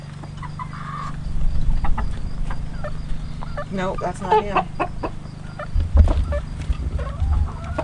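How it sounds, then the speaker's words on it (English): Roosters and hens in a garden flock clucking and calling intermittently at close range, with short crow-like bursts in the middle, while a person speaks nearby and low wind rumble comes and goes. "We have 3 roosters this time instead of 9."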